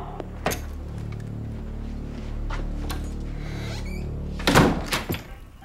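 A door is shut to seal a building into lockdown: one solid, close thunk with a brief rattle near the end, following a low steady room hum and a few faint clicks.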